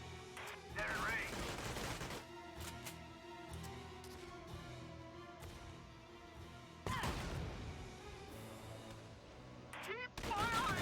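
Gunfire rattles through a Valkyria Chronicles 4 battle, with bursts of shots and sharp impacts at the start, middle and end, loud and close, mixed with game music and voices.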